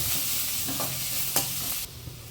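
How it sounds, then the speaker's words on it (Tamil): Steady sizzling of onions sautéing in oil in a pan, with a few scraping stirs, before the hiss drops off sharply near the end. "வெங்காயத்தை வதக்கி விட்டுட்டே இருங்க"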